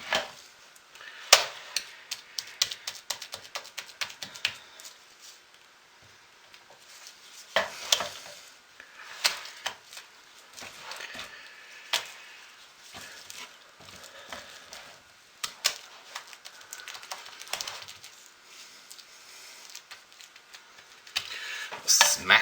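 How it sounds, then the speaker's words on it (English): Thick hot process soap settling as its mold is smacked against a surface, giving sharp, separate knocks scattered irregularly across a fairly quiet background. "Take it like a knife and smack it on the side just to really get it down into the corner since it's so thick."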